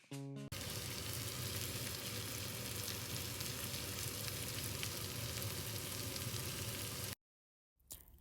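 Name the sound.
shrimp frying in sausage grease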